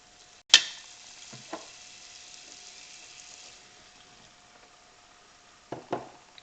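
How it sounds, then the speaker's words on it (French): Butter melting in a pan is stirred with a spatula: a sharp scrape at the start, then a soft low sizzle with a few quiet scraping strokes and a couple more near the end. "je remue avec une spatule. Mon beurre est presque fondu."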